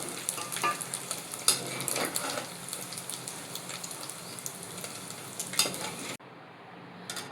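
Oil sizzles and crackles steadily in a pan on a stove while prawns fry, a loud close hiss with small pops and stirring scrapes, then the sizzle drops sharply quieter near the end as the heat is lowered.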